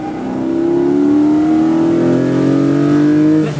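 Naturally aspirated 4.0 engine of a Porsche 718 Boxster GTS revving on a track, a loud sustained rising wail that climbs steadily in pitch over a few seconds, close and continuous with no talking.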